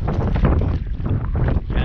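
Strong north wind of about 15 to 16 mph blowing at the Corpus Christi spillway while fishing, a loud continuous buffeting roar across the microphone that stays steady with gusty surges throughout.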